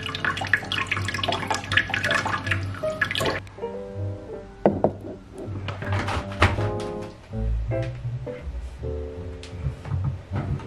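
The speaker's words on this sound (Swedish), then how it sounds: "Och så är det bara till att fylla på med vatten." Tap water runs into a plant container for a few seconds, then stops, followed by drips, trickles and light knocks of handling the pot nearby.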